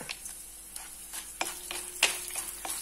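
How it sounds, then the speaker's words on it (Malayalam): Chopped ginger and urad dal fry in oil, a faint, thin sizzle under a series of light, scattered scrapes and taps from stirring, quiet and close. "കുറച്ച് ഇഞ്ചി അരിഞ്ഞതിട്ടു. കൂടെ നമ്മൾ 2 ടേബിൾ സ്പൂൺ ഉഴുന്നല ഇടണം."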